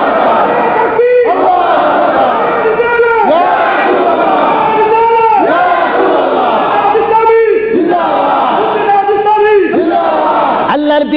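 A large crowd at a Bengali Islamic religious sermon (waz) chants a loud, rhythmic takbir response in repeated swelling waves of massed voices, close and sustained.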